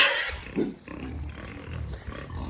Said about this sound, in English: That's the sound of a pig touching the electric fence.